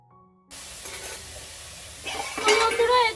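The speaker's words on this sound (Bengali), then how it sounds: "এই ডোডোর জন্য আজকে ডিমের অমলেটটি রান্না করব" Egg omelette frying in a pan for a dog, a soft steady sizzle that swells louder near the end with a few light clinks of a utensil against the pan, starting after a brief silence.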